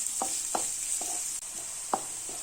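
Ingredients for a rajma gravy being sautéed in a pan, with a steady frying sizzle and five or six distinct scraping stir strokes at an uneven pace, close up and without speech.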